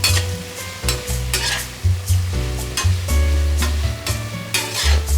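Soya chunks with added salt sautéing in a hot pan give a steady loud sizzle and frying crackle, with repeated scraping stirs from a utensil running throughout.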